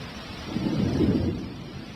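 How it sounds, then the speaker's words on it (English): A low rumble of thunder swells and fades over steady rain, loud and near, with no voices. "Thunderstorms may be brief here, but they often presage long rainy spells."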